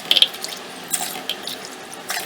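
Water is poured from a vessel into an aloo wadi mixture in a pot, a brief close splash and gush with a few light clinks of metal, then quiet.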